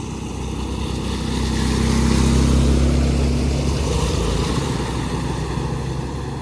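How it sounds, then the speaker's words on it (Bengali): Two motorbikes ride together through a flooded road, a steady low engine rumble mixed with water noise that swells as they pass close and then eases slightly. "তো এখানে আরও দুটো বাইক একসাথে আসছে"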